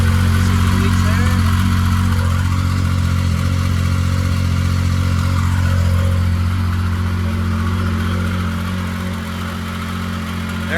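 A 2016 Yamaha Viper snowmobile engine runs steadily at idle, a loud constant low drone with a faint dip in level near the end, while a person talks over it.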